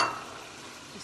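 Green chilies, garam masala and kasuri methi are stirred into keema with potatoes frying in a pan, giving a brief, soft sizzle with a light scrape of stirring.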